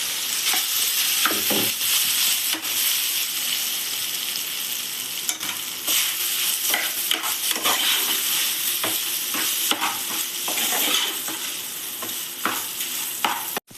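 Leftover idli being stirred into a hot pan for idli upma, with continuous loud sizzling and frequent scraping spoon strokes throughout and no voices.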